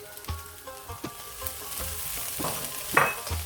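Chimichanga filling sizzling in a pan as oregano is stirred in, with a steady fry hiss broken by repeated scraping spoon strokes and occasional clinks against the pan, close and clear.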